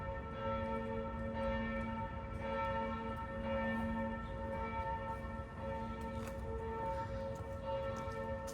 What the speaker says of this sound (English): Did you hear the bells?